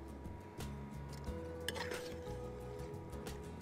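Utensil stirring coarsely broken ingredients together in a pan during swordfish preparation, with a steady scraping and clinking of metal against the pan and a faint sizzle underneath, close and continuous.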